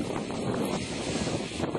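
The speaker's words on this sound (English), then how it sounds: "I hope the wind's blocked off of this" Wind buffets an outdoor microphone in a steady, dense rumble that holds for under two seconds, with no pauses or other clear sounds.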